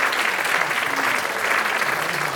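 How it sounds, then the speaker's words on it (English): Continuous crowd applause greets panelists walking onto the stage at a film premiere panel, with dense, even clapping throughout. "Round of applause."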